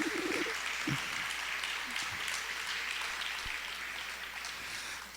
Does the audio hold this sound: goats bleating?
no